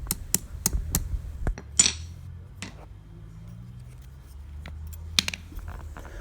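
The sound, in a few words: hammer tapping to straighten a bent WW2 metal badge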